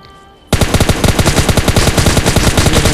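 Rapid, loud bursts of gunfire from a shotgun and an SKS rifle in the mobile battle royale game PUBG Mobile Lite break out suddenly after a quiet moment and continue as a dense, rhythmic volley.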